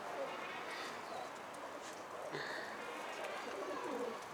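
Pigeons or doves cooing softly over a noisy background, with brief higher calls near the middle; voices talk throughout.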